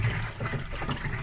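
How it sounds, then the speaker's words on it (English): Water running through a hose fitting into a boat's tank, a brief steady close rush of flowing, filling water. "Okay, we're filling her up again."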